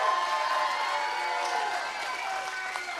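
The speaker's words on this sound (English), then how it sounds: "Let's give one more big round of applause." Audience applause and cheering after a ten-round slap fight match at a live event, a steady dense wash of clapping from a crowd that gradually eases off.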